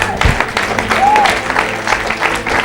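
Church congregation clapping together, a short burst of dense, steady applause with a few raised voices mixed in.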